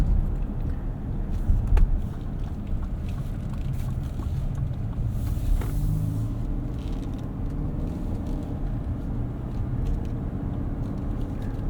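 A 2024 Lexus TX 500h F Sport with a 2.4-liter turbo hybrid powertrain drives along, a steady low engine and road drone heard from inside the cabin, with no talking.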